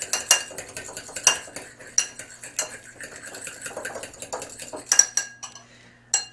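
A utensil beats separated egg yolks in a bowl, with quick repeated clinks and scrapes against the side in an uneven rhythm, close and clear with no talking.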